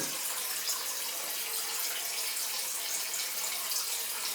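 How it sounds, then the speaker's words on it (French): Water runs from a leaking tap inside an abandoned house as a continuous, steady rushing hiss, fairly close and unchanging, with no talking. "Il y a l'eau dans la maison, ils font couler depuis combien de temps ça?"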